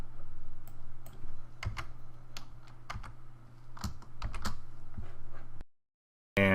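Rapid typing on a computer keyboard while writing web code in an editor, a steady patter of close key clicks with irregular louder strokes, stopping abruptly near the end.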